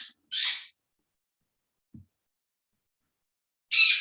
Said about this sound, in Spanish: Esos pericos.